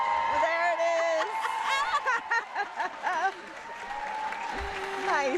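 Audience applause and clapping at a world jigsaw puzzle championship semifinal, a steady crowd patter running throughout with voices talking and exclaiming over it.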